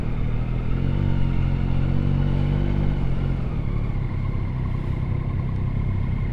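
Yamaha Tracer 9 GT motorcycle engine running steadily while being ridden, a continuous close, loud drone with a slight shift in pitch partway through and no talking.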